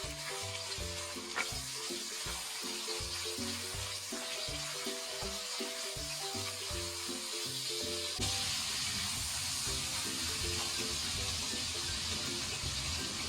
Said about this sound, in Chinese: 热锅放入适量的植物油，热锅凉油下入五花肉